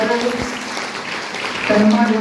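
Loud, dense applause from a crowd at a school ceremony honoring class 10 and 12 students, continuous throughout, with voices mixed into the clapping.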